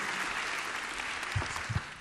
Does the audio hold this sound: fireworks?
no